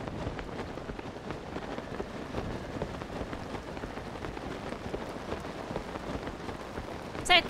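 Steady rain pours during a thunderstorm in Zelda: Tears of the Kingdom, a dense, constant hiss of falling drops with no break, ending on a brief louder burst.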